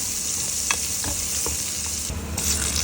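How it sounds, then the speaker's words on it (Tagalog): Garlic sautés in a hot pan for milkfish sinigang, giving a loud, steady sizzle. A few faint scrapes of stirring sound over the top, with no voices. "Igigisa na po natin ang bawang."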